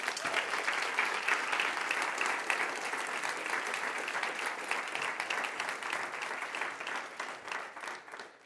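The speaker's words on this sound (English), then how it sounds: "I think we shall give them one more applause." Sustained audience applause following a live song performance at a human rights peace conference, steady and dense throughout before slowly thinning toward the end.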